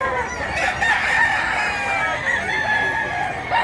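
A large two- or three-year-old rooster crows through a continuous stretch of bright, rising and falling calls over a busy farmyard background, with other fowl clucking nearby.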